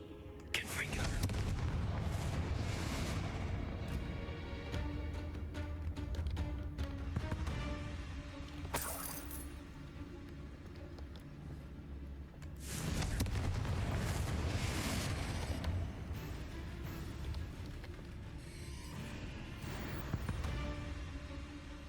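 Repeated Confringo fire spells explode in the game Hogwarts Legacy, a sustained roar of loud booming blasts and rumbling that surges, eases around the middle, then swells again, with a voice briefly heard.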